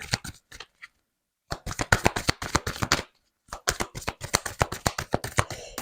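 Oracle cards shuffled by hand in repeated crisp riffling bursts, close and clear, with a short pause in the middle before the shuffling resumes; no talking.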